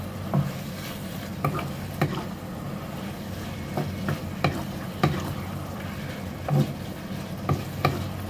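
Beef is stirred in a pan with a cornstarch sauce, soft steady sizzling under regular scraping taps of a spatula, each stroke a distinct knock, fairly quiet and close.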